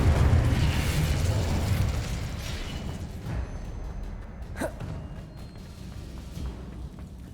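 In Hogwarts Legacy, an Incendio fire spell erupts loudly with a deep whooshing roar and then slowly fades, followed by a sharp crack midway and a softer rumbling tail.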